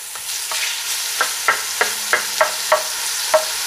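Bacon browning in a pan for a chorizo chicken and vegetable soup, a loud close sizzle punctuated by a regular series of sharp clicks and scrapes from a utensil breaking it up.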